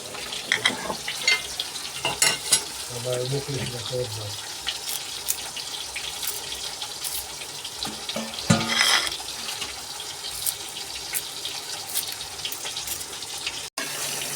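Leafy greens cook down in a pan as their water boils off, giving a steady close hiss and sizzle broken by a few scattered clinks and scrapes, with a faint voice briefly underneath.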